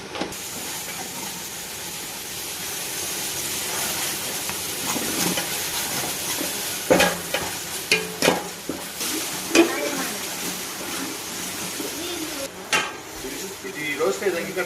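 Onions roast with ginger paste and salt in a pan for chicken biryani, giving a soft continuous sizzle and steam with occasional scraping stir knocks, while a voice talks over it.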